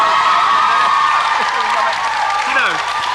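A studio audience on a 2003 television chat show breaks into sustained, loud applause with scattered cheers, a dense steady wash of clapping that runs the whole time while voices sound faintly beneath it.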